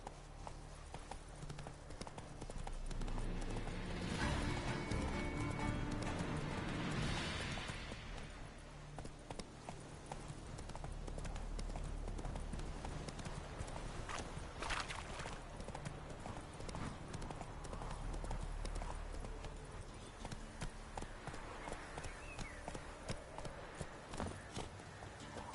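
Horse hooves clip-clop steadily on the ground while riding in the video game The Witcher 3, a continuous trotting rhythm that swells and fades slightly over the clip, with no talk.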